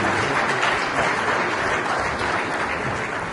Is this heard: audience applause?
yes